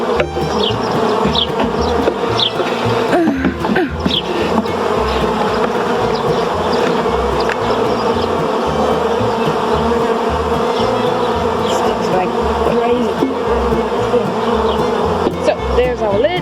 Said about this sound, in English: Here are the bees.